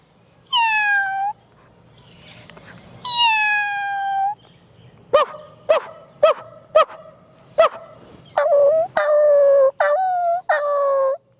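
A voice mimicking a dog and a cat: two drawn-out howls, then a burst of sharp, rapid barks and several short whining yelps, loud and close with quiet gaps between.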